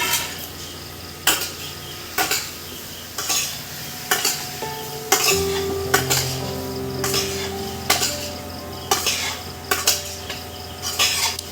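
Previously fried potatoes go into a pot of spiced aloo dum masala, with a sizzle underneath and regular, rhythmic scrapes and clinks of a spoon stirring against the pot, close and clear, with no talking.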